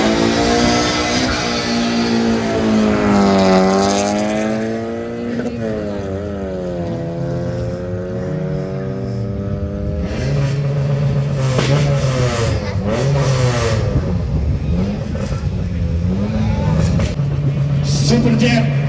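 A drag race vehicle's engine revs hard and climbs toward high RPM, loud and continuous with rising and falling pitch sweeps, under a loudspeaker announcer talking throughout.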